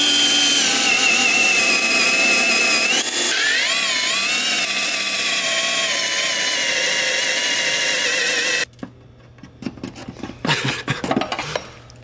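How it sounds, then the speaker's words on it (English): A power drill whines loudly for several seconds drilling out spot welds, its pitch wavering under load, then stops, followed by metallic clinks and clatter. "gonna drill the spot welds out for me right now"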